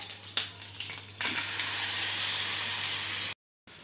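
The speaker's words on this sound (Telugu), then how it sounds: "క్లీన్ చేసుకొని చికెన్ వేయాలి." Chicken pieces fry in a pan with spice paste, a loud steady close sizzle that jumps up after about a second and runs on evenly before cutting to silence near the end; no talking.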